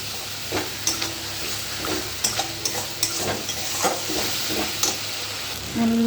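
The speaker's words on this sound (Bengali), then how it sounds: "আমি মশলা দিয়ে ভালো করে কষাবো। এটাকে মশলাটাকে ভালো করে কষিয়ে নেব।" Spice paste being stir-fried in a pan for katla fish curry with potato and cauliflower: a steady sizzle broken by repeated scraping strokes of a spoon, close and fairly loud, with no talking.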